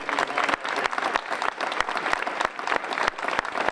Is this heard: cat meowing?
no